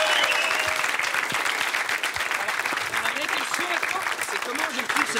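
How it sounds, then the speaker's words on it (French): A studio audience bursts into sustained applause, dense clapping from many hands continuing steadily throughout, with some voices mixed in. "Allez, on applaudit Marius."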